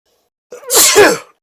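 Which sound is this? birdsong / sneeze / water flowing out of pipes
sneeze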